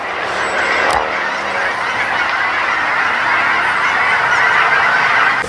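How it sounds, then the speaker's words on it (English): Canada geese honking steadily overhead outdoors, a dense, continuous chorus of loud nasal calls lasting throughout. "See, those are Canadian geese right there."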